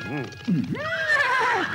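A horse neighs loudly in a comedy film scene, a rising then falling whinny stretching over most of the moment, preceded by brief voiced sounds.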